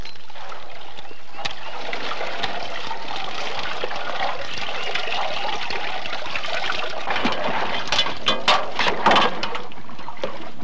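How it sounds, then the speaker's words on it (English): Water trickling and splashing as personal items are dunked in a decontamination slurry and rinsed in clear water, steady sloshing that grows into louder splashes near the end. "decontaminate your personal items by dunking each item into a slurry mixture, soaking it thoroughly"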